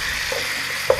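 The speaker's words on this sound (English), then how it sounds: "Just stir that up." Tomato paste is stirred into a sizzling pan of sherry-deglazed short rib and onion soup base, a steady close hiss with a couple of quick scraping stirs.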